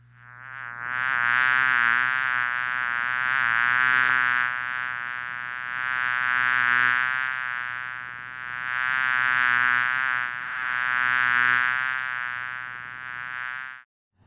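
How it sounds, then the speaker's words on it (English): A dense, continuous buzz of honey bees around a hive after package installation swells and fades in waves, loud and close, with no talking. "hopefully those bees will fly in there before tonight"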